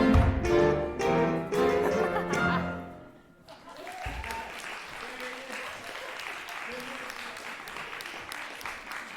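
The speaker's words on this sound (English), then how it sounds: "Please give another round of applause to our wonderful musicians and dancers here today with us." Swing band music at a Montreal swing dance gathering ends abruptly, and an audience breaks into steady, sustained clapping for the musicians and dancers, filling the room at moderate loudness.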